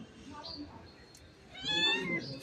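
A black cat meows, with a soft short meow early on, then a louder, drawn-out meow near the end, against quiet room background and faint movement.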